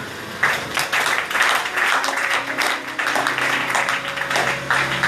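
A church congregation applauds, steady clapping from many hands filling the room for several seconds, loud and continuous with no speech over it.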